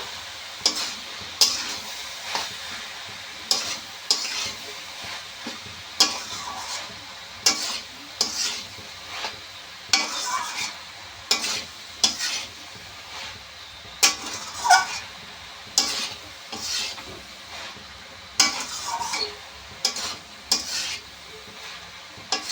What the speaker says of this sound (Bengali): ঢাকা খুলে নেব আবার একটু নেড়ে চেড়ে কষে নেবো